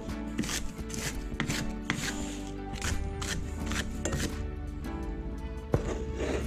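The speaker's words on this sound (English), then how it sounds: "We want to grate some ginger." Fresh ginger grated by hand for kingfish ceviche in a home kitchen, a busy run of quick rasping and scraping strokes up close with occasional sharper knocks, steady throughout and no talking.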